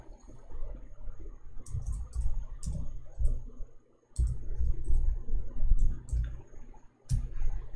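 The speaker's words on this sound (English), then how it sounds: "I'm typing in English." Computer keyboard typing, a run of quick irregular clicks in bursts with brief pauses, close and fairly clear, with no talking.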